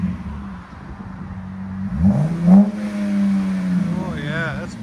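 A 2022 RAM 1500 Bighorn's 3.6L V6 exhaust fitted with a Borla ProXS idles with a low drone, then swells in a quick rev and settles back, with people talking nearby.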